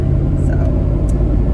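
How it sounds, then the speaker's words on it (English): A car rolls along a quiet neighborhood road under steady, firm braking, its low road rumble and engine drone filling the short stretch while a voice talks over it. "giving it some good firm braking. Not slamming the brakes, but just good firm application."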